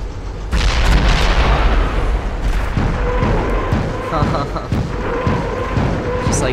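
Mortar and artillery fire booming in the WWII strategy game Company of Heroes, Eastern Front setting, with dense continuous thumps and blasts layered over battlefield noise and brief game voice chatter.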